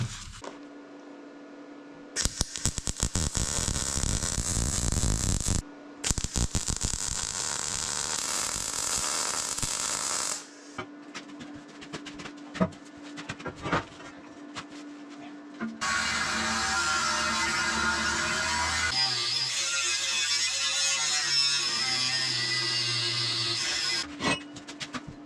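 A large Makita power tool runs in loud bursts with stops and restarts, its motor whine and buzzing hum filling the space, with a harsher grinding stretch toward the end.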